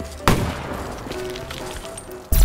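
Gunfire during wall running in Call of Duty Black Ops III, two sharp loud shots at the start and end with a busy low rumble of game ambience between.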